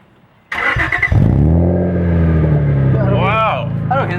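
A BMW 335i fitted with catless downpipes fires up and holds a loud, steady rev with a deep droning tone, while people talk and exclaim over it near the end.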